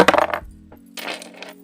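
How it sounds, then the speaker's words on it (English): A few D&D dice clatter and tumble across a hard surface in a quick close burst. A second, softer rattle follows as they roll to a stop. "We got some D&D dice. I rolled a... Ooh, let's try that again because I rolled a 1."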